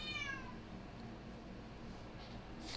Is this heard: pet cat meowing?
yes